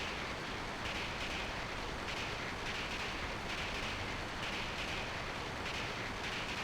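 A train rolls along steadily in a Final Fantasy 8 cutscene, a constant hissing rumble with faint rhythmic clatter repeating every second or so, moderately quiet and unbroken.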